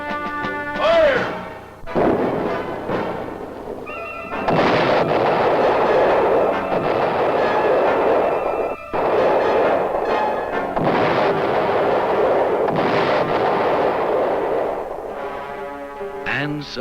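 Pennsylvania Army National Guard weapons fire during training, loud heavy blasts in repeated bursts with long roaring, rumbling stretches between them, close and dominating throughout.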